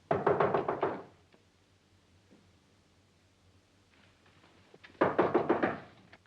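Knuckles rap on a room door in a 1940 film scene: a quick burst of about half a dozen sharp knocks, a quiet pause of several seconds, then a second matching burst, close and crisp.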